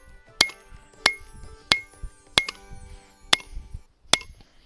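Cross peen hammer striking hot steel while forging a Viking war axe, six sharp ringing blows at a steady pace of roughly one every two-thirds of a second, fairly close, with quiet clatter between strikes.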